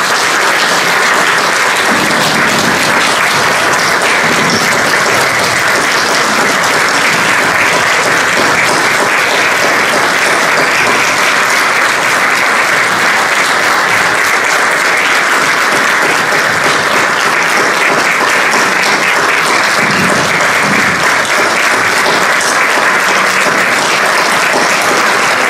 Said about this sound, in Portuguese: uma salva de palmas aqui para a gente